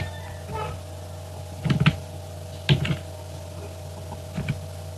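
Computer keyboard keys tapped while entering a captcha code on a login page: a few short, quiet bursts of clicks separated by pauses, over a steady low room hum.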